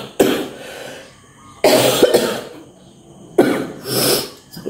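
Repeated coughing from someone with a sore throat and a cold, three separate harsh, chesty bursts spaced out over a few seconds, close and fairly loud, with no talking.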